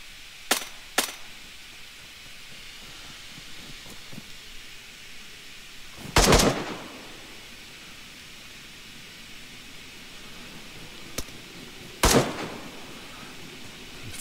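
Gunfire from players shooting zombies in DayZ cracks as sharp, isolated shots scattered over steady background hiss: a quick pair early on, then single or doubled reports spaced several seconds apart, moderately loud and distant-sounding.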